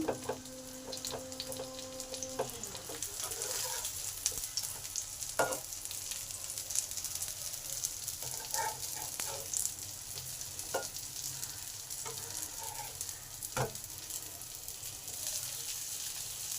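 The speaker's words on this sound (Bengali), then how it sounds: "লাল করে ভেজে নেব" Food sizzles steadily in a pan for a gluten-free breakfast, with occasional sharp clinks and scrapes of stirring cutting through the constant close frying hiss.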